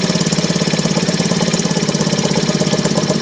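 A 1955 Elgin 2.5 outboard motor idles close by with a loud, rapid, steady putter and an even knocking rhythm that stays constant throughout, and no voices are heard over it.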